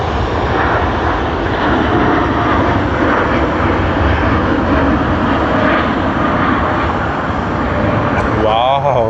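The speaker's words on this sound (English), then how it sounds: "just waiting for the departure of Cathay Pacific" A Cathay Pacific airliner departs Sydney Airport, its engines a loud, steady broadband roar filling the whole stretch with no letup, with a brief higher whine near the end.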